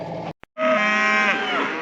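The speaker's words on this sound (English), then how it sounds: "I'm sorry for all the mooing" Cattle on a farm moo loudly and close by, one long drawn-out low call after a brief gap, with a farm worker nearby setting up an electric fence wire.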